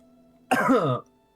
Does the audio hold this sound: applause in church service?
no